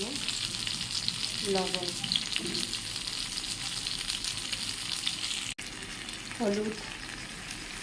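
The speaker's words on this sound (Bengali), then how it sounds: "এরকম ভালো করে একটু নাড়াচাড়া করে নেব, দিয়ে এর মধ্যে 2 মিনিট মতন এটা ভালো করে রান্নাটা করব, বেগুনটা দিয়ে ভালো করে।" Eggplant fries and sizzles steadily in a pan as it is stirred, with a few scraping strokes and someone talking over the cooking.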